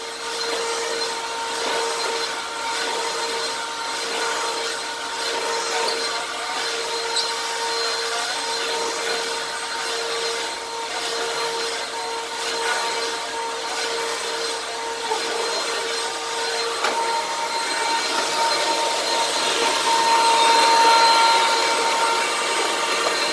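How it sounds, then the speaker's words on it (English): Hoover WindTunnel Pro Pet upright vacuum cleaner running steadily with its brush roll turning and a worn belt giving a high, thin whine over the continuous motor hiss, close and constant throughout. "And what I'll do is basically just vacuum a little bit, have it going, rolling the brush a little bit."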